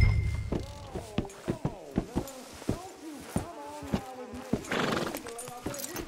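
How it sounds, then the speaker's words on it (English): Horse hooves clip-clopping at a steady walking rhythm in a video game, close and distinct, with a whinny and snorts mixed in over faint buzzing insects in the background. "Fine horse you got there."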